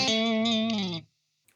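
A single sustained electric guitar chord played through an amp with no pedal rings out clean for about a second, then cuts off sharply into silence.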